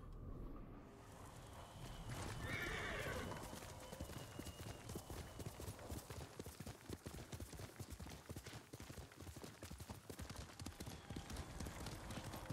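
Horse hooves clip-clop steadily in Ghost of Tsushima, a continuous walking-to-trotting rhythm of close, moderately loud footfalls over game ambience throughout.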